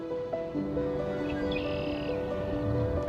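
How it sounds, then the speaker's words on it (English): Birds calling outdoors at the start of March as snow melts in early spring, with repeated clear chirps and sustained whistled notes layered over a steady background, moderately close and alone without voices. "The birds were returning."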